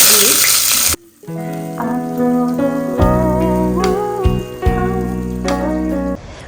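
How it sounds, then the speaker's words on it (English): Onions are dropped into splattering hot oil in a home kitchen pan, giving a loud sizzle that starts abruptly and holds steady with crackles. Strong tonal hum and other kitchen sounds sit alongside it, close to the listener. "And then when it splatters, we're going to add our onions."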